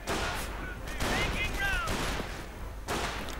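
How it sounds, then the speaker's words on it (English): Distant gunfire from German Panzer Grenadiers firing on engineers in a WWII strategy video game rattles as a steady barrage of scattered shots under the game's background noise. "Engineers coming under fire from the Panzer Grenadiers"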